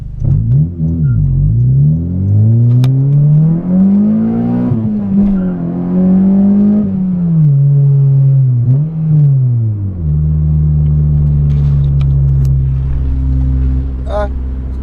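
A 9th-generation Honda Civic Si with a catless test pipe exhaust drones and climbs in pitch as it accelerates, revving up and easing back in a steady, loud harmonic whine, with faint talk underneath.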